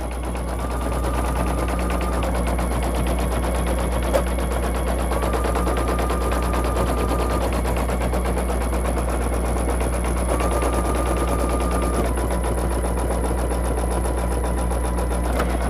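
A single-needle embroidery machine stitches an HTV appliqué onto a sweatshirt, making a steady, rapid mechanical chatter throughout with a constant hum and occasional tones.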